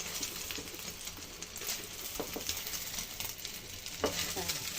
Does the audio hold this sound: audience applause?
no